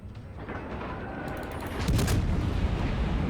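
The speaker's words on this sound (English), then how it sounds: "now he's shooting at me" Naval guns fire in World of Warships as a dense, continuous low rumble of distant shell fire and booms. It swells louder partway through, with no voices.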